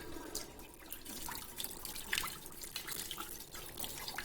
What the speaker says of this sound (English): Now let's see if water comes out.